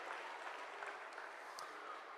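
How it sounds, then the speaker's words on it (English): Applause at a school's international week opening ceremony in 2018: a steady, broadband wash of clapping from a crowd, even and sustained with no clear individual claps standing out. "give us a big round of applause?"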